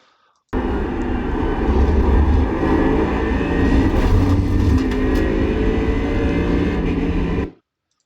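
A Mercedes GT3 race car engine roars loud and close at Le Mans in the iRacing video game, a dense steady drone with slight pitch shifts that starts abruptly and cuts off after about seven seconds.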